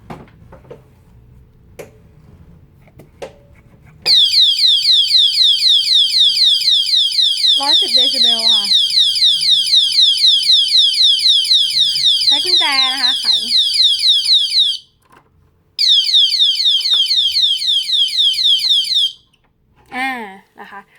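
A motorcycle disc brake lock with a built-in anti-theft alarm rated at 110 decibels shrieks in a loud, rapid pulsing electronic wail, cutting out briefly before restarting, with a few soft voices in the gaps.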